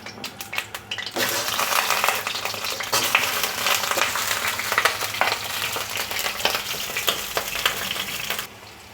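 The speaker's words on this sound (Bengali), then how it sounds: "একটুখানি সর্ষের তেল আর এর মধ্যে আমি আলুগুলো দিয়ে দেবো" Potatoes drop into mustard oil in a pan and burst into a loud, steady sizzle that runs for several seconds with occasional crackles and stirring scrapes, then cuts off abruptly; a few clicks come before, no talking.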